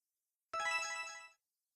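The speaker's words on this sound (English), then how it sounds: "Did your phone wake you up?" A single short melodic phone ringtone from the Amnesia: Memories visual novel game, a bright chiming burst of under a second, clear and alone with silence before and after.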